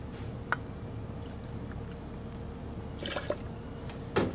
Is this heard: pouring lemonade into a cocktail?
yes